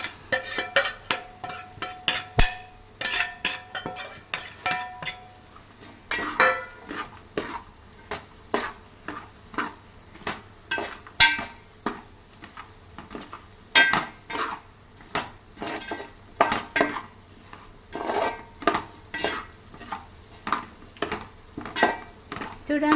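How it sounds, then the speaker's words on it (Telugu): Chicken pieces added to a spice paste in a pan and stirred for Telangana-style chicken pickle: repeated close scraping and clinking of a spoon against the pan, with a soft sizzle underneath and some talk. "ఈ పేస్ట్లో మన చికెన్ పీస్లను వేయాలి"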